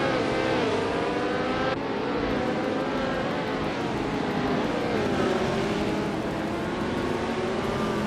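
Several race cars from a video game, including a 1966 McLaren M10A, roar steadily with overlapping engine tones that rise and fall as they run together, loud and continuous with no talk.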